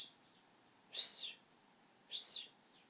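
A pet bird indoors lets out two short, bright squeaks about a second apart, fairly close, in a quiet room.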